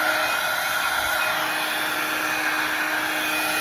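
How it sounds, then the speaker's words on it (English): Embossing heat gun blowing hot air over embossing powder on a tool box gift card holder craft, a steady, loud, continuous whooshing hum with a high whine, unbroken and alone with no talking. "you're going to just bring in your embossing gun"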